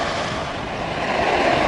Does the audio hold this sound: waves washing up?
yes